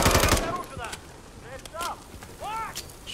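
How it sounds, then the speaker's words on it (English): Dragon's breath shotgun blasts and other gunfire in the video game Modern Warfare III, a loud rapid burst up front and scattered shots, with voices talking over them. "somebody's got dragon's breath over there"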